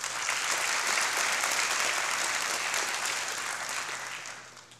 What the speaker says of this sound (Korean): 참석하신 내빈들을 위해 다시 한번 큰 박수로 환영해 주시기 바랍니다.